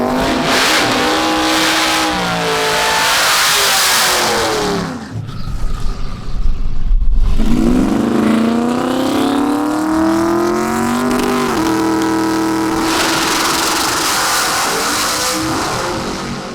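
A drag race car engine at Gainesville, loud and close, revving up hard in rising sweeps, dropping to a sputtering rumble, then climbing again into long sustained high-pitched screams, with no voices.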